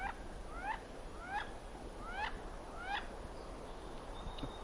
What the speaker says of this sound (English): Did I hear wood duck? Because it's wood duck.